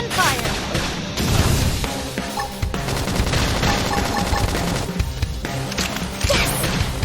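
Sustained rapid gunfire and crashing impacts from a battle in Xenoblade Chronicles X Definitive Edition, loud and continuous throughout with dense bursts and no clear pauses.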